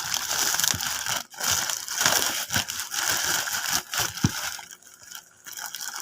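Crinkly crushing and tearing of packaging material, a series of rustles and crackles close up, with no talking.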